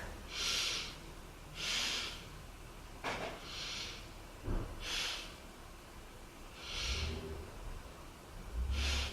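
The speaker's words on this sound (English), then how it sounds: "And let's take 3 breaths." Slow, deep breaths through the nose during a strong back-strengthening yoga pose, airy rushes repeating about every one to two seconds, close and soft.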